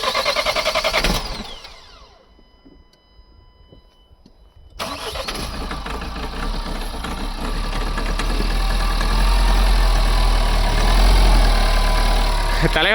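A car engine struggling to start on a freezing morning at minus four degrees in Kinnaur Valley, cranking and then settling into a loud, steady idle that swells louder and holds, with faint voices underneath.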